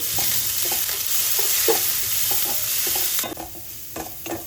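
Chopped onion and green chillies with salt fry in a pan under a bright sizzle, while a spatula stirs in a run of rhythmic scraping knocks; the hiss drops off near the end, leaving sparse stirring taps.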